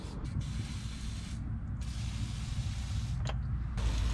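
Penetrating oil hisses from an aerosol can onto the U-bolts of a 1981 Ford Courier mini truck, in a few short bursts over a steady low background rumble.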